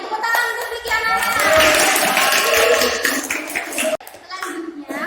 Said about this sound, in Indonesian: Tepuk tangan untuk Ziki anak-anak